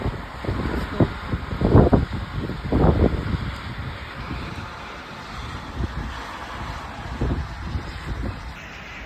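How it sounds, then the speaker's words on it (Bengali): Strong wind sweeping through Moscow in stormy weather, a steady rushing roar that buffets the microphone with heavier gusts in the first few seconds, continuing without voices. "রাশিয়া ভাই, ভারী হিউজ বাতাস,"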